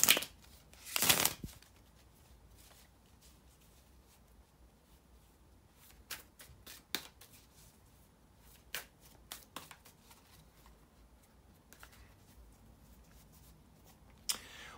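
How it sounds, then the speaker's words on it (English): Tarot cards being shuffled up close: a dense riffling burst near the start, then scattered soft card slaps and flicks over a quiet background. "bear with me a second guys to shuffle the tarot cards"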